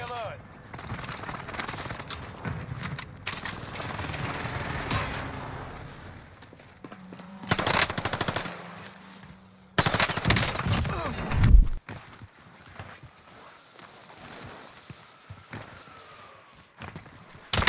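Gunfire in Call of Duty Warzone, with bursts of shots from an MP40 submachine gun among other game sounds, loud in places and intermittent, with a voice speaking at times.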